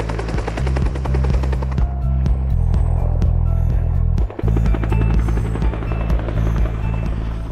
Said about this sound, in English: that's a Huey helicopter.